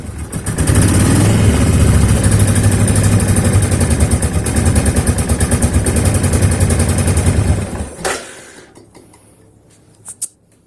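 A Suzuki Intruder 1500LC motorcycle, sitting unused since 2012 and running on old gas, rumbles loudly and steadily at close range, then cuts out abruptly, leaving a few faint clicks.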